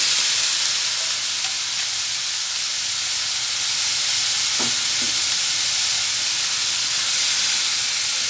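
Pechay stems sautéing in a pan for ginisang pechay give off a steady, close sizzle and hiss, with a few brief clinks of stirring around the middle.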